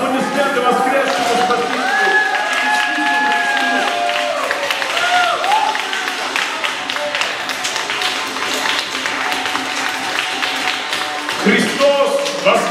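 A church congregation applauds during an Easter service in Moscow: dense, steady clapping mixed with crowd cheering, shouted voices and church music, holding loud throughout.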